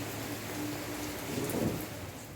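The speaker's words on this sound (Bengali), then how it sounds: "সকাল থেকে বৃষ্টি পড়ছে" Rain falling steadily since morning, a soft, continuous hiss of drops heard faintly, with a low rumble swelling briefly near the end.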